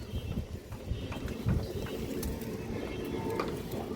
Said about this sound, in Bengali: কালো গলা মাদি কবুতর